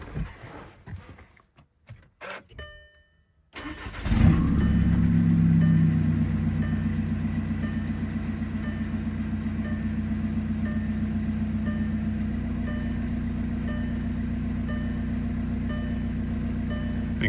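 A 2014 VW Passat TDI diesel engine cranks briefly, catches and starts, then settles into a steady, loud idle that rumbles on without change.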